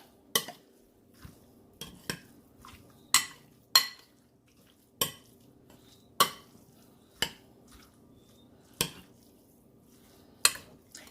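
Garlic cloves stirred into curry in a pot, a spoon scraping and knocking against the pot roughly once a second in a loose rhythm, close up with a faint low hum between strokes and no talking.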